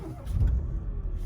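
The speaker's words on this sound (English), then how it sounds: "And if we start the car" A Renault Captur engine turns over and catches after a service, a short low rumble that settles into a steady idle, close by with no voices.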